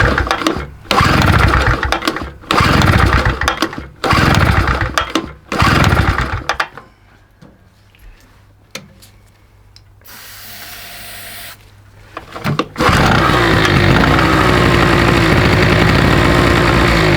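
A SIP two-stroke generator engine revs in short bursts as it catches and dies, drops to a quiet lull, then fires up and settles into a loud, steady buzzing run close by.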